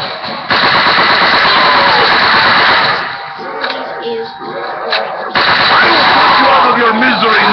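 Machine gun fire in the Call of Duty Black Ops video game, sustained rapid bursts at close range with a brief lull in the middle, mixed with game sounds and a voice talking over it.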